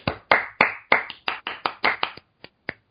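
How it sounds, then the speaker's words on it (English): Sharp, uneven claps ring out alone, a dozen or so sharp hits that thin out toward the end. "let's get another round of applause for that"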